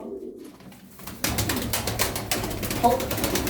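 Tumbler pigeons, including a large bird, give low cooing calls amid rapid clattering taps and flutters that start abruptly after a quiet opening, near and busy, with a faint voice briefly in the background.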